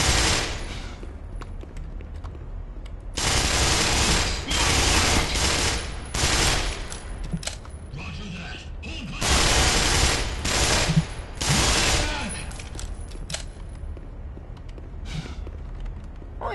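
Black Mesa gunfire rattles in loud, sustained automatic bursts, several long volleys broken by brief lulls, with a mechanical clatter underneath and no talking.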